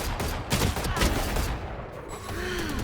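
A burst of gunfire in a tactical shooter video game: rapid overlapping shots in a short volley, loud and close, with game effects around it.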